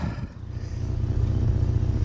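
A Rover Mini Cooper engine cranks and catches, then settles into a steady low rumble that grows slightly louder over a couple of seconds.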